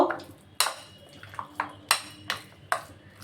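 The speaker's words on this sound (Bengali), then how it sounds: "হ্যাঁ, সরষের তেলটা ভালো করে এর সাথে মিশিয়ে নেব।" A spoon mixes mustard oil into white sesame paste in a bowl, striking the rim in about six sharp, ringing metallic taps at an uneven pace, with softer scrapes in between.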